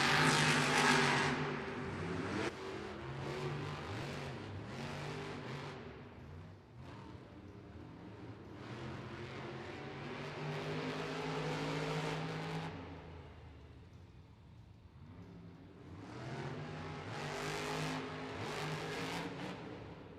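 Monster trucks race side by side in a Monster Jam semifinal at an arena in Arnhem, Netherlands: loud, sustained engine roars rise and fall continuously for the whole stretch, revving hard with no clear pauses.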